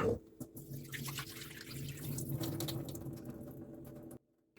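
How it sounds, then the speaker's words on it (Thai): Jasmine rice being rinsed once in a bowl of water, swished and sloshed by hand with close, continuous watery splashing and drips that stop abruptly at the end. "สามารถซาวข้าวแค่ครั้งเดียวได้เลยค่ะ"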